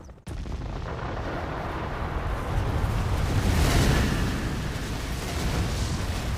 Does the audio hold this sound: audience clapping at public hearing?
no